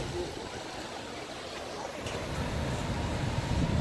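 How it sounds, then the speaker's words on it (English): A small waterfall in downtown Pueblo pours a steady, broadband rush of falling water that grows slightly louder over a few seconds, heard from nearby with no talking. "Cool little waterfall down there."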